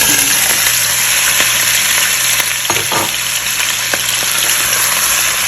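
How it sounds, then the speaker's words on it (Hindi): Chicken pieces frying in hot oil in a pan, a steady loud sizzle with occasional stirring clatters, close and continuous with no talk. "अब उसी ऑयल में मैं जो है चिकन डालने लगी हूँ"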